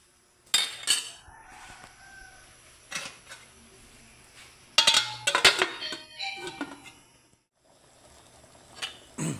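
Metal pot lid clattering back onto a pot of cooking corn: a few sharp clanks and scrapes, with quieter kitchen rustling and pauses between them.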